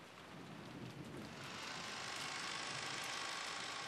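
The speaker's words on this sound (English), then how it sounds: "The only voice that called after them was the sound of the rain." Steady rain pours in a visual novel scene, a dense wash of hiss that swells slightly louder partway through and holds without pause, with no voices.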